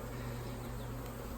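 Honey bees set aside in a container during a varroa mite check hum in a steady, faint, unbroken drone with no voices over it.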